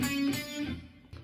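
Intro riff on electric guitar, a few picked notes ringing briefly, close and fairly quiet, with a fresh note struck near the end.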